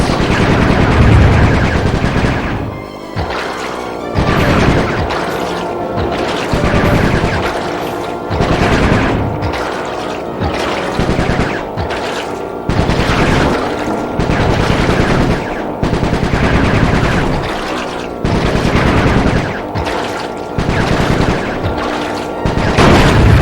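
Repeated loud bursts of machine-gun fire ring out in the Sly 3 game, rattling volleys separated by short pauses with booming impacts mixed in.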